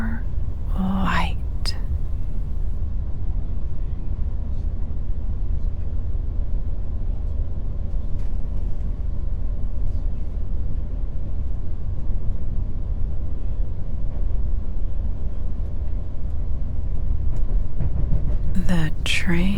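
A train rolls steadily along the rails, its wheels making a continuous low rumble that fills the whole stretch, with a soft, whispery voice briefly at the start and end.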